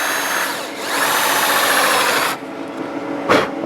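Valve seat face on a Fowler PA1 engine being cut to 45 degrees with a power tool to clear pitting, a loud close whirring, grinding run that stops abruptly, then a brief second burst, with no talking.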